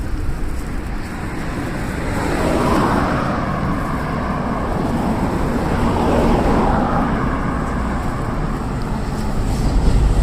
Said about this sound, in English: There's a bit of heavy traffic right now though.